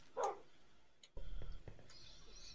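A dog in the video game Minecraft gives a short, faint yip near the start, followed by low background game noise with no talking.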